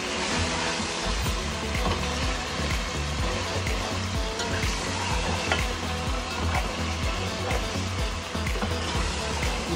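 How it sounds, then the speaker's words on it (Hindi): Deghi biryani masala for a one-kilogram batch fries in a pot with a loud, dense, continuous sizzle and the rhythmic scrape of stirring throughout. "इसको और अच्छे से भूनते रहेंगे हम थोड़ी देर और तकरीबन 10 मिनट तक और भूनेंगे।"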